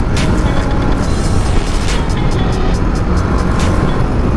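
A TVS Apache RR310 motorcycle with its stock exhaust runs hard on a highway, giving a loud, steady engine drone under heavy wind rush, with no speech.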